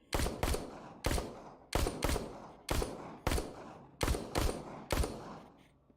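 Gunfire in The Walking Dead: Saints and Sinners game: a steady run of loud, sharp gunshots, mostly in quick pairs, each decaying with a short echo, with no talking.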